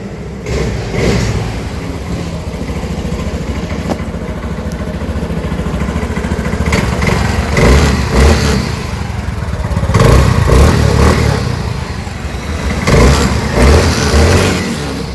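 A hybrid motorbike's engine runs close by, idling with a rough mid-pitched hum and several short revs rising and falling.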